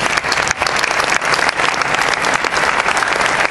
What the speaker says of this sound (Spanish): Un aplauso para Javier.